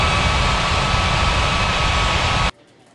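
A jet airliner roars on takeoff in an air traffic control game at Ngurah Rai Bali International, a loud, steady engine rush that cuts off abruptly near the end.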